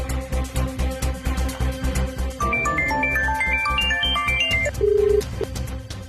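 A telephone rings on a call placed to a police station in a Tamil TV drama, a repeating melodic ringtone of bright stepped tones that swells, then ends on one sustained beep.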